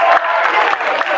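Brief, loud crowd applause mixed with cheering at a noontime show with a guest artist, a continuous roar of hands with a few sharper peaks.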